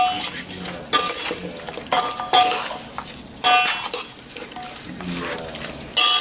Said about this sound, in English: We're gonna get it all mixed up.